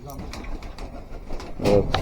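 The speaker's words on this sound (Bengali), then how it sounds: "আমাদের কবুতরের কী অবস্থা দেখি" Pet pigeons kept in cold winter weather cooing nearby, a low throaty coo rising near the end amid shuffling and a voice in the background.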